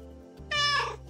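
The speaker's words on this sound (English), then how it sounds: "Oh, that was a loud cat." A loud in-game cat meows once in the video game Calico, a rising, strained cry over a low steady background hum, standing alone without talk.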